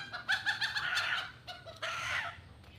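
Free-range desi chickens on a Bangladeshi farm cluck in a busy, overlapping chorus of short, close calls, with a brief lull before the birds resume clucking together.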